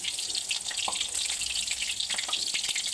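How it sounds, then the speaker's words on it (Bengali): Two eggplants frying in hot oil make a continuous dense sizzle with scattered sharp pops and crackles throughout, close and fairly loud. "দুটো বেগুন ভেজে দিচ্ছি প্রথমে"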